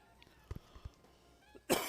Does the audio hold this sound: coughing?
yes